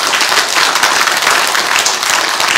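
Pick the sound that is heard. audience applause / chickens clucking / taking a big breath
audience applause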